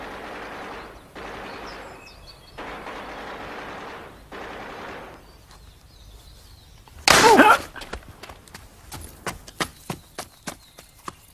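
Machine gun fire in a Soviet war film starts as long sustained bursts, then a loud close blast, then a series of separate sharp shots spaced irregularly, with no talking.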